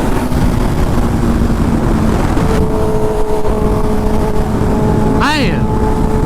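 Kawasaki Ninja H2 motorcycle at high RPM on a fast run, a loud continuous engine roar with rising tonal whine and wind rush, a sharp pitch sweep near the end as another passes.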